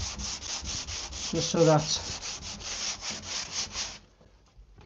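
Sandpaper rubbing back and forth over a painted wooden surface to scuff it, a steady rhythmic rasping up close that stops near the end, with a few words spoken briefly over it.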